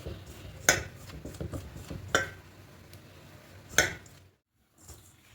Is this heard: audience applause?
no